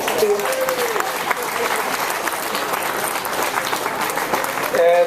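Loud crowd applause at an outdoor trade union festival rally as a speaker is introduced: dense, continuous clapping from a large gathering, with some cheers and voices mixed into the noise.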